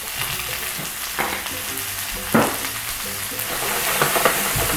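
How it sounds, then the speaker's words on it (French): Serrano pepper, garlic and a pinch of salt sizzle steadily in a pan as they lightly brown, a close, even frying hiss broken by a few soft scrapes and stirs. "Nous allons dorer légèrement les affaires. Il ne faut pas que ce soit très doré."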